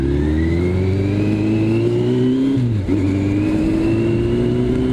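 A Yamaha Fazer motorcycle engine revs in sustained rising pulls, a loud close buzzing drone that dips briefly mid-way before climbing again.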